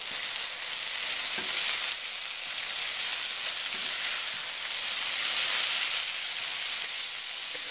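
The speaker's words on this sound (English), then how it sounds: "Give it a stir." Chili powder and salt stirred in a frying pan for South Indian tomato rice, a dense, loud, steady sizzle like heavy rain, with only faint stirring underneath.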